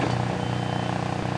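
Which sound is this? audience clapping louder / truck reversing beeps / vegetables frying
truck reversing beeps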